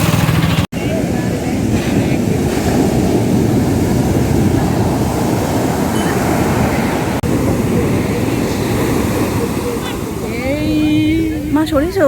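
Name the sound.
sea waves washing up on Puri beach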